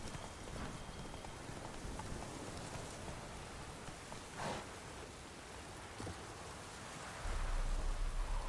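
Hooves of Roach, the horse in the video game The Witcher 3: Wild Hunt, clip-clop at a steady walking pace, soft and moderately close over a faint wash of outdoor ambience, with a louder rumble near the end.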